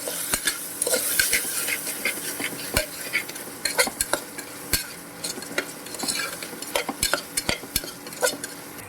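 Spiced samo millet khichdi, seasoned with chilli powder, salt, pepper and garam masala, stirred in a pan with a spoon that scrapes and clinks repeatedly against the metal over a soft sizzle, close and steady, with no talking.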